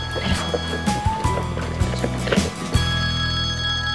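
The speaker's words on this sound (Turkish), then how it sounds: "Ay dur. Telefon." A telephone rings in a home, a loud bright repeating bell tone broken into short pulses with brief gaps, sounding close and alone without talk.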